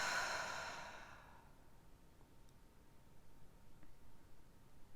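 A long, deep exhale during guided breathing fades out over a couple of seconds, close and soft, leaving quiet room tone with faint ticks.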